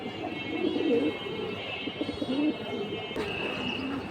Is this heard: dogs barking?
no